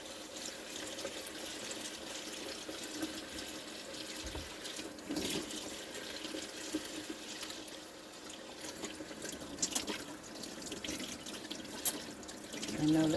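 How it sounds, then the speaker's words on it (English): Water runs from a kitchen faucet in a stationary RV while hands are washed under it, a steady close splashing stream that lasts throughout with faint shifts as the hands move. "Come over here and wash my hands real quick."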